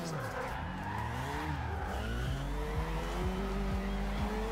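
Car tyres squeal and spin up in a racing game, the engine droning steadily while the pitch of the wheelspin rises and shifts, loud and alone without talk.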